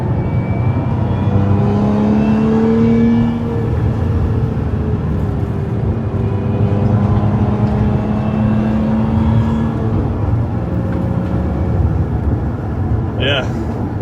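A Lotus Emira at speed on the Spa Francorchamps circuit, its engine droning steadily from inside the cabin with pitch rising and falling through gear changes, a voice talking over it throughout.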